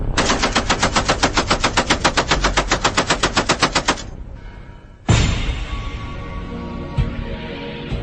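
Machine gun fires a long, rapid, evenly spaced burst for about four seconds, then after a short pause a second loud burst starts and rings out with echoing tail and a few extra thumps.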